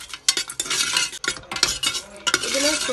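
Cashews roasting in ghee in a pan for vegetable pulao: close sizzling under repeated scraping and clinking of a metal spoon stirring against the pan, irregular strokes, no talk.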